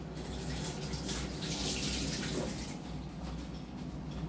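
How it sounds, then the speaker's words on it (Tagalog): Hands being washed under a running kitchen tap, a steady close splash of water with shifting gurgles as the hands move through the stream. "hugas kamay tayo."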